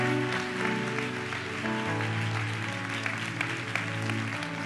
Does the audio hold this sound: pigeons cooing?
no